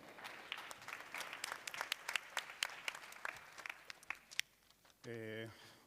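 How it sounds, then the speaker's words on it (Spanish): Scattered applause from a conference audience at a plenary session, sharp separate claps of modest size that thin out, followed by a short voiced tone. "Un fuerte aplauso también para él."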